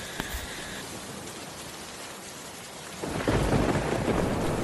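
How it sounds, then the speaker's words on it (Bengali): Steady heavy rain with a low rumble of thunder, loud and close, swelling into a stronger rush of rain toward the end. "সারাদিনই তো বৃষ্টি"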